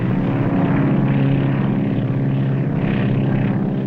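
A propeller airplane engine drones steadily and loudly in flight through heavy snow in a 1942 film, a dense, continuous roar that fills the whole stretch without any voices.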